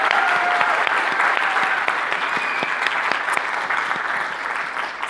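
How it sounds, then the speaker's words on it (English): An audience at an education event gives a big round of applause, loud and steady at first and easing slightly as it continues. "can we have another huge round of applause for Michelle, Akello, and Mahendra?"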